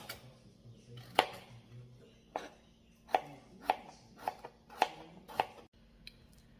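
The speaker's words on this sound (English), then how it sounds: "Just peel your potatoes and chop them up small." A knife chops peeled potatoes into small pieces on a cutting board, giving about eight sharp, separate knocks at an uneven pace in a quiet kitchen.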